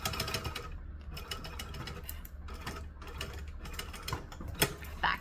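A sewing machine top stitching fabric, a fast, quiet mechanical chatter of needle and gears running steadily with brief pauses and a couple of louder clacks toward the end.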